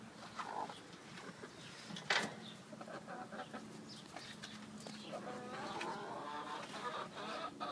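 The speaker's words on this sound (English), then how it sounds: "You crazy chicken." Soft clucks and low murmuring from a broody hen named Penny sitting on an empty nest in a dusty coop, scattered and faint, with a few brief sharper calls.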